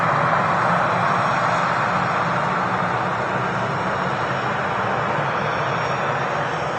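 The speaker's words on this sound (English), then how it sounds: "Taxiing out to runway 23 left, the Air Transat A321 long-range Neo" An Air Transat A321 long-range Neo airliner taxis out to runway 23 left at Manchester Airport, giving a steady, broadband engine roar with a low rumble that stays constant and fairly loud throughout, with no voices.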